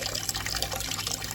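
Tap water runs steadily into a bucket being filled for a bucket shower at night, a close, continuous splashing rush with a low hum underneath and no talking.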